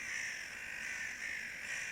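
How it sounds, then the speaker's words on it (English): Crows cawing at dusk in a video game, a dense, continuous chorus of harsh calls filling the scene at steady moderate loudness, with no talking. "Crows."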